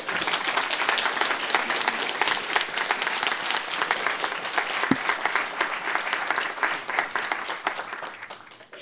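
Loud, dense applause from the audience at the opening ceremony of a new paediatric cardiac surgery ward in a hospital, sustained clapping from a large crowd that tapers off at the end.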